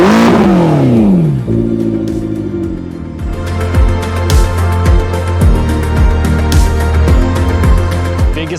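A McLaren supercar engine revs loudly while driving, its pitch climbing and falling in repeated sweeps over a steady, throaty drone.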